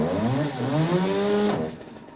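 A McCulloch petrol chainsaw engine held at steady high throttle while warming up, a loud buzzing whine near the microphone that drops off sharply after about a second and a half.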